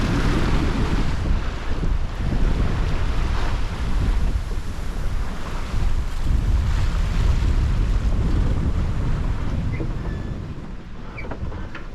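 Strong wind roars steadily across a sailing boat at sea heading for the Faroe Islands, with waves washing and rushing close by, loud and continuous before easing slightly at the end.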